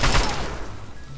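Gunfire in the video game Fallout 3: a loud burst of rapid shots at the start that decays into a rumbling tail, close and dense, with no clear speech.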